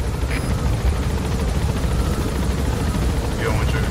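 Helicopter in Metal Gear Solid V: The Phantom Pain, a steady close rotor drone and engine rumble filling the whole stretch without letup, with someone talking over it.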